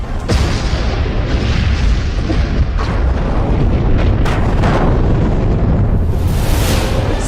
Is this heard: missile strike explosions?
yes